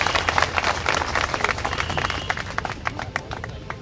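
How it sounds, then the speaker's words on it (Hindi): Crowd applause and clapping at a Bihar Kumhar Prajapati Samanvay Samiti gathering in Kaimur, welcoming a candidate; dense, steady clapping throughout, with some voices mixed in underneath. "जोरदार ताली से स्वागत कीजिए पूजा जी का।"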